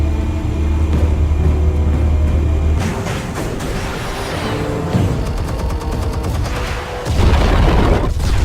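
Explosives detonate in Batman: The Telltale Series, a dense, heavy rumble of booms with a crackling burst of rapid blasts partway through and a deep thump near the end, loud and continuous.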